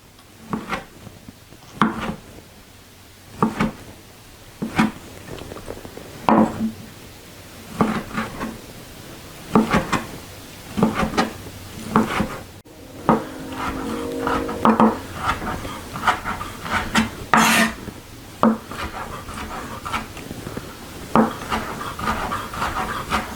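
A knife chops produce on a wooden cutting board for a citrus salsa. Repeated firm thunks land at an irregular pace and quicken into bursts toward the end, close and clear with no voices.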